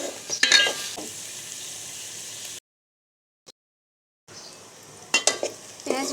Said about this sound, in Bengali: এরপর এগুলো একটু ভাজা ভাজা করে নিতে হবে